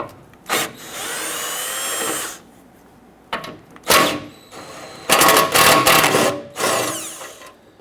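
Bursts of a power driver or impact tool loosening and removing 13mm cross-member bolts on a 2006-2010 Hummer H3, several loud separate runs with short pauses between, close up.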